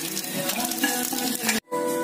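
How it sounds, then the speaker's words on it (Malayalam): Whole spices, including cinnamon and cloves, crackle in hot ghee while being stirred. A dense, close sizzle carries light stirring scrapes, then drops out for a brief moment near the end. "നമ്മളപ്പോ ഈ പട്ട ഗ്രാമ്പൊക്കെ ഒന്ന് ഇട്ട് കൊടുക്കണം കേട്ടോ. നന്നായിട്ടൊന്ന് ഇളക്കി കൊടുക്കണം."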